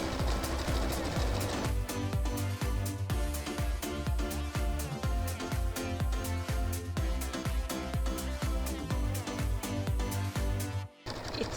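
A sewing machine runs a steady zigzag stitch around a fabric applique, its fast rhythmic whir continuous and close for about eleven seconds before stopping briefly near the end.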